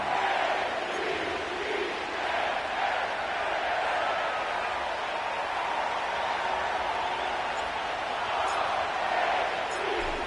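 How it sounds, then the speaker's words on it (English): Steady, loud roar of a stadium crowd in an EA Sports NFL football video game set at M&T Bank Stadium in Baltimore, a dense unbroken cheering wash with faint scattered shouts throughout. "The crowd is definitely ready."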